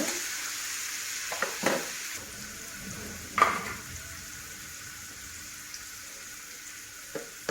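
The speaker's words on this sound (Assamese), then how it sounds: "অলপ পিঁয়াজখিনি এনেকৈ ভাজি ল'ব লাগিব।" Onions fry quietly in hot oil with a low, constant sizzle, broken by a few soft scrapes and clinks of a spoon in the pan.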